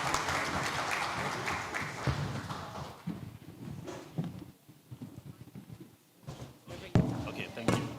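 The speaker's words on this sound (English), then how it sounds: "Please, another round of applause for them" An audience at a wealth summit applauds the panelists, clapping loud at first then thinning into scattered claps, with a few thuds and voices talking over it.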